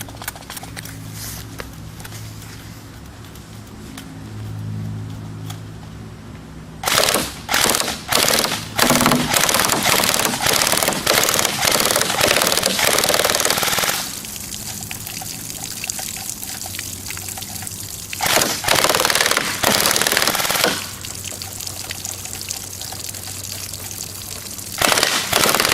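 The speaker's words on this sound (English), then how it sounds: "I'm going to try to shoot through them, see if I can put holes in the one behind it." A KM4A1 airsoft rifle fires rapid bursts through milk jugs, with sharp clustered cracks broken by steady splashing as liquid pours and gushes from the punctured jugs. The shots come close and loud.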